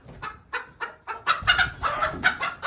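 A couple of hens perched up high cackle and squawk in short, sharp, rhythmic bursts that grow busier and louder, close by with no talk.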